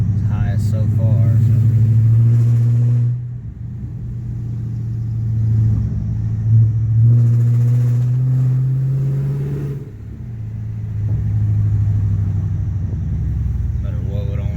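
A Dodge Charger Scat Pack engine revs in sustained, rising pulls with brief dips between them, loud and close, as it is warmed up.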